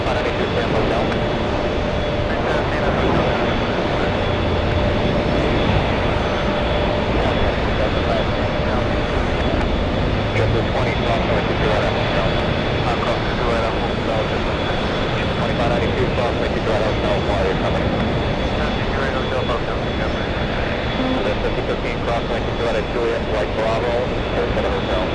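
At JFK Airport a JetBlue airliner produces a continuous, moderately loud jet engine rumble with a faint high whine, while someone talks over it throughout.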